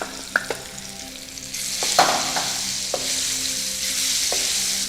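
Mango pieces sizzling in hot ghee with cashews and raisins for mango payasam, a steady bright frying hiss under intermittent scrapes and taps of a spoon stirring the pan, close up with no talking.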